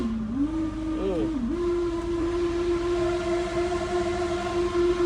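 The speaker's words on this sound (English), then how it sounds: "The engine seems to run okay." A Dodge Dart with a faulty dual dry clutch transmission idling close by, giving a steady droning engine tone that wavers briefly before settling into an even hum.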